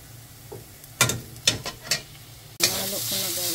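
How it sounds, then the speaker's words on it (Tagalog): Pork frying in olive oil in a pan, a few sharp scraping stirs of a utensil followed by a loud, steady sizzle that rises and continues to the end. "Nahalo ko na guys yung pork."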